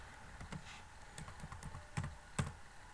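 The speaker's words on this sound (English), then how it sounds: "press the E button on your keyboard" Keystrokes on a computer keyboard while setting up Android Pie 9.0 in a virtual machine: a few sparse, close clicks and taps with brief pauses, quiet and dry, no talking.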